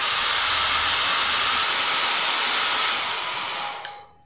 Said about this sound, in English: So I take a hairdryer and dry it.